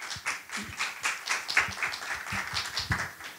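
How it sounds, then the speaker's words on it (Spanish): An academic festival audience claps to welcome a professor, a modest, uneven patter of hands rising and falling in short pulses over a few seconds. "Le damos un fuerte aplauso,"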